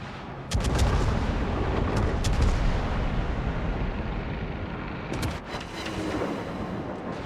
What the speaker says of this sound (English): The first salvo doesn't do well, but we do get a second salvo.